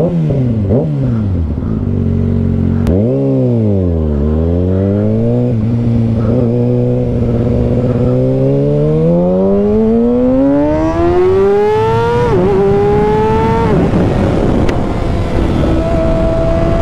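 A 2021 Kawasaki Ninja ZX6R KRT Edition motorcycle revving up close and loud, its engine pitch climbing and falling in repeated sweeps before a long, rising high-rpm pull that drops away at the end.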